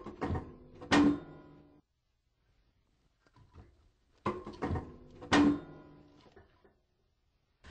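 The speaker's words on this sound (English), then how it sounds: "Now I close the door and set the air control to fully open." A wood stove's metal door swung shut during fire lighting, two separate clanking closures with rattling latch noise several seconds apart, close and fairly loud with no talking.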